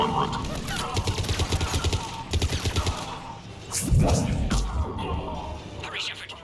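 Automatic gunfire in the video game Mass Effect 3, with rapid bursts of shots in short clusters, loud and close, followed by a heavier crash-like blast and scattered effects under game dialogue.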